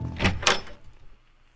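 A door opening in a video game: two quick, bright clunks close together, then a softer fading rumble that settles into quiet.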